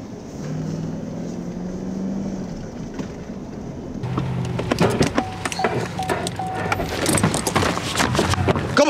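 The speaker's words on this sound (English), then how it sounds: "Car's taking off." A car pulls away during a police foot chase on a roadside, its engine rising under radio-like hiss, followed by louder clattering, door and movement noises and sharp bursts.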